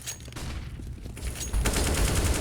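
AK rifle gunfire in the video game Counter-Strike crackles in rapid bursts over a busy background, growing louder and denser in the second half of the clip.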